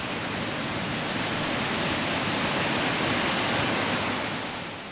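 A large volume of water pouring through a dam in Michigan, a dense continuous roar at close range, steady and loud throughout before easing slightly at the very end, with no voices.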